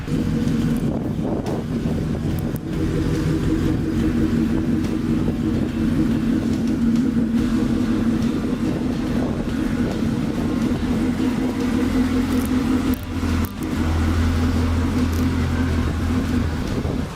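A custom 1967 Pontiac Tempest sleeper on the road, heard from inside as a steady, loud engine and road drone with heavy wind rush, and a deeper low rumble near the end.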